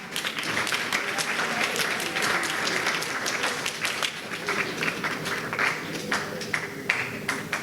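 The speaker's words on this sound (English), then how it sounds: "Please let's clap." Audience applause fills a hall at a UCC Law Week celebration, a dense, steady patter of many hands clapping continuously for about eight seconds at an even, full level.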